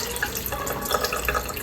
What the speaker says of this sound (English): I kind of have my water down a little bit because I am using raw meat